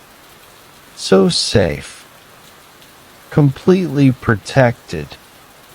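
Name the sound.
rain falling on greenhouse glass roof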